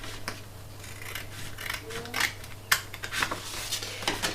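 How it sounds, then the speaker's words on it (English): Scissors snip along a score line in card stock on an envelope punch board, several short close cuts with light rustling and handling noise, no speech. "this side and this side, we're going to cut up the score line"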